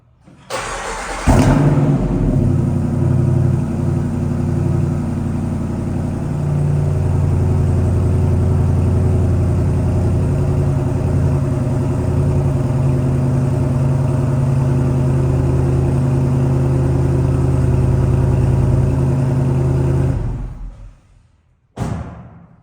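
A 2024 Jeep Wrangler 392 V8 fires up with a sharp crank and catch, then settles into a loud, deep, steady idle heard up close for about twenty seconds before cutting off, with a brief bump at the end.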